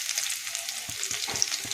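Chopped garlic goes into hot oil in a home kitchen while soya chili is being made, a bright, continuous sizzle with a few soft low knocks from stirring underneath.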